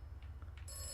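In the video game Atomfall, a telephone starts ringing partway through with a faint, bright, sustained electronic tone over a low background hum.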